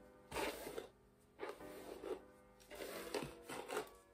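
A brush is pulled through a curly hair wig in four or five slow, close, raspy strokes, each a soft scratchy swish separated by brief pauses.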